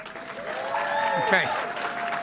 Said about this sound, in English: That's where you clap.